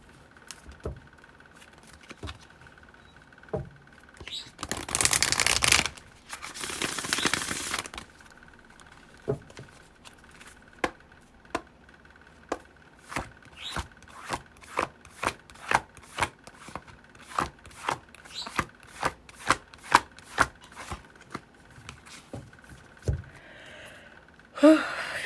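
Tarot cards are shuffled and drawn during a reading, with two long bursts of riffle shuffling followed by a steady series of sharp card taps and flicks, close and alone, with no talking.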